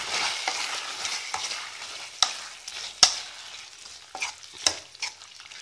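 Chicken with mushrooms sizzles gently in a pan over low heat, a soft, even hiss broken by a few sharp spatula clicks and scrapes. No talking.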